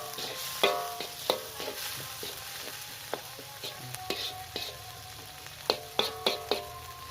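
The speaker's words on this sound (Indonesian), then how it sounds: "lalu aduk rata biar bumbunya meresap ya di dalam daging" Seasoned turtledove meat with Acehnese spices being stirred in a frying pan outdoors, a steady low sizzle punctuated by irregular scrapes and clinks of the utensil against the pan.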